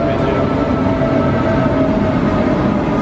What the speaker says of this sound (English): the train is just coming in now